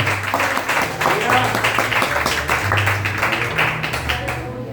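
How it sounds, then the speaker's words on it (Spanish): A church congregation (Iglesia Filadelfia) claps for Jesus Christ during a sermon, loud close applause mixed with voices calling out and exclaiming throughout. "Aplauda a Jesucristo."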